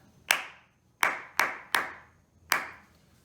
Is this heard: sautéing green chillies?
no